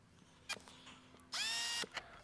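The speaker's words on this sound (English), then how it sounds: "using a small drill, just ensuring that we don't drill all the way through" A small drill makes a brief high whirring bite into the plastic shroud of a Toyota LandCruiser 300 Series, preceded by a couple of soft clicks and taps in an otherwise quiet space.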